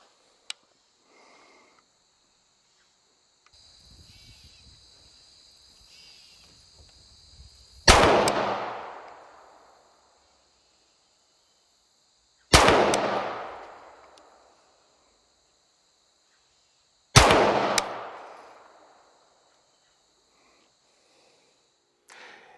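Three loud, sharp gunshots from a short-barreled rifle fired at a 100-yard target, each spaced several seconds apart and followed by a short decaying echo, after quiet handling noises.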